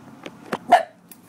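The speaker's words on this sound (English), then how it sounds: "No barking." A few short barks from a dog nearby, three or four sharp yelps spaced out over about a second.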